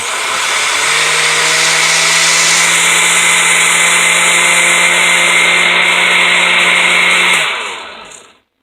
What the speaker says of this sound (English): Now I'm going to mix it all up.